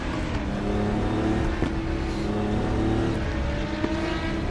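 A Porsche race car in the RaceRoom racing game holds a steady, loud engine drone with a buzzing, layered tone, running continuously with small shifts in pitch and no speech over it.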